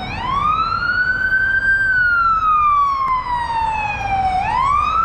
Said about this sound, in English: So here comes the ambulance.